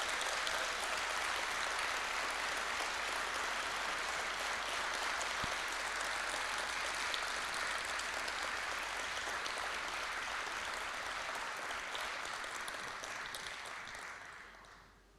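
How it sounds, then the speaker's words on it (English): Sustained audience applause for fire academy training officers, a broad and even roar of many hands clapping in a large hall that lasts about fifteen seconds before fading. "would you please give them a huge round of applause"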